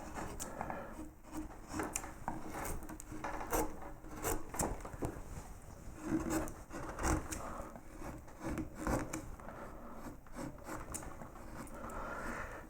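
A deep wood-carving gouge shapes a hellebore-like flower, making continuous close scraping and rasping cuts with a steady uneven rhythm, alone without talk.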